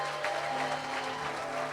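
A church congregation applauding, a dense wash of clapping from many hands that carries steadily and fairly loud through a large room, with a faint voice mixed in.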